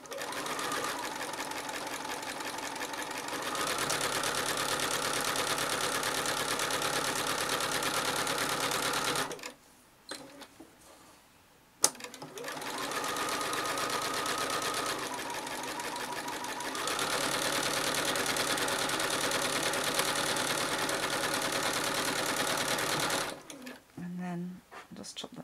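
Sewing machine doing free machine embroidery on a hooped postcard, running in long steady stretches with brief stops between them, close and prominent, while a person talks over parts of it.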